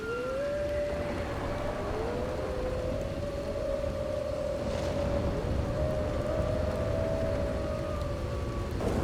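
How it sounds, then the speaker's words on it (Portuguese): A wolf pack howling in Red Dead Redemption during a storm: long wavering, overlapping howls held steady over a constant loud wash of rain and wind. "Uma alcateia de lobos famintos decidiu me atacar"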